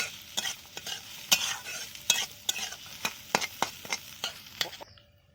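Green peas frying in a hot wok while a spatula stirs them, producing a close, steady sizzle punctuated by a dozen or so sharp scraping and clattering strokes in an uneven rhythm, ending abruptly.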